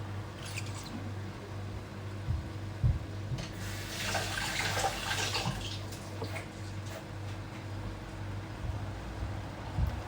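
Mint leaves are rinsed under a running kitchen tap, a steady rush of water with a louder, splashier stretch midway, over a low constant hum.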